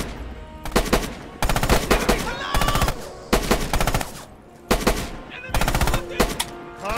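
MG42 machine guns in the video game Red Orchestra 2: Heroes of Stalingrad fire in long, loud, rapid bursts separated by short gaps, with shouting voices in between.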